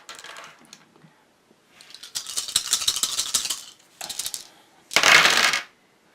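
Dice clattering and rattling on a table during a Dice Throne board game, several bursts of tumbling clicks separated by short pauses, close and fairly loud, ending in a strong final rattle.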